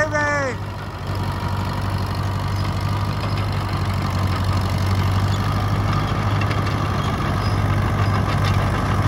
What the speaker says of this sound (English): Look at him spin with the right steering clutch and brake.